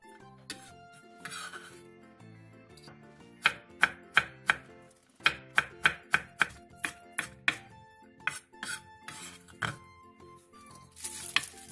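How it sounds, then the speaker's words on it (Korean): A knife chops on a cutting board through sliced onion, green and red chili peppers and green onion, striking in quick, crisp bursts with short pauses between runs. Faint background clinks sit under the cuts, and no one speaks. "양파 2분의 1개를 채 썰고 청양고추 2개, 홍고추 1개, 대파 2분의 1개는 어슷썰기 해주세요."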